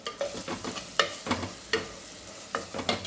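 Spices including turmeric, homemade masala and a little biryani masala stirred into food frying in a pan, a series of sharp spoon scrapes and clacks over a soft sizzle, close and alone.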